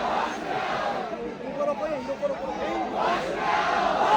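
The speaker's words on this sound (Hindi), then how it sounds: "अभी के लिए आप देख सकते हैं कितनी ज़्यादा भीड़ है यहाँ पे" A large protest crowd in Kullu, Himachal Pradesh, fills the air with a dense roar of many voices and shouts, loud and continuous with swells of chanting.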